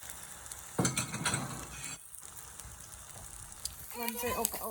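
Egg-dipped bread fries in melted butter in a pan for French toast, a soft sizzle with occasional scraping and clinks as it is moved, and someone talks over the cooking toward the end.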